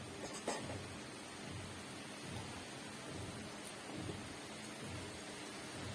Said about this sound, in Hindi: तेज बारिश तेज।